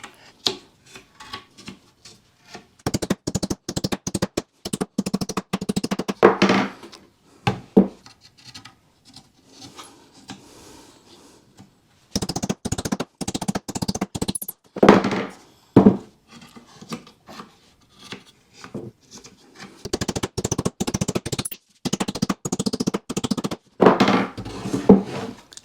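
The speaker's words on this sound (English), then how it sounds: "Now we just simply nail the rest of the box together. I will take my hammer, squeeze those in." Nails being hammered into a wooden beehive box during assembly, in bursts of sharp, rapid close strikes separated by short pauses, with no talking.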